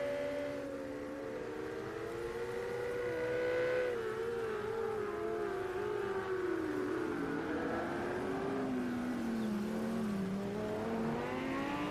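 A Lamborghini GT3 race car laps Zhuhai International Circuit in a racing game, its engine droning steadily with rising and falling pitch through gear changes, continuous and fairly faint.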